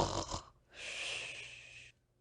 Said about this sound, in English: The snores continued.